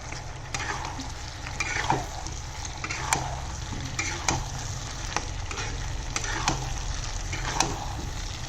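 Duck and potatoes fry on medium heat while a spatula stirs them, regular scraping clacks recurring about once a second over a steady close sizzle, with no voices.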